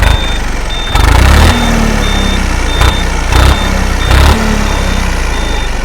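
A small modified tractor's turbo engine runs steadily up close with a loud, constant drone, broken by periodic heavier surges and a repeating high beep.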